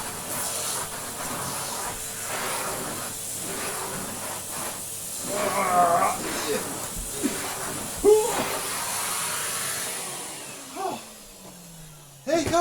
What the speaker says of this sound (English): Here comes some airflow on HVR160.